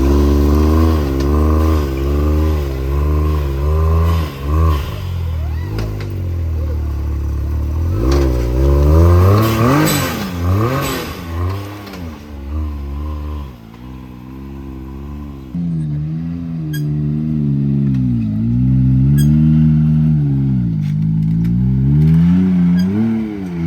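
Can-Am side-by-side UTV on 35-inch tires with an SXSUSA P clutch, its engine revving and rising and falling in pitch as it climbs steep rocky terrain, loud and continuous with occasional clatter and no talk.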